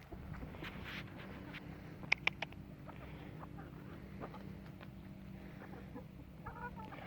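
A backyard flock of hens and two roosters clucks quietly at a distance, with a few sharp, louder calls near the middle over a low, steady background hum.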